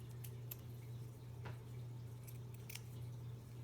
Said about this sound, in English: I'm gonna cut open my netting here